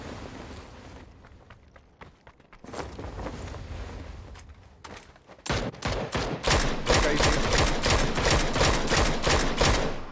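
Rapid bursts of gunfire from the PUBG battle royale game on the desert map Miramar, sparse shots at first, then dense, loud, repeated volleys crackling continuously through the second half.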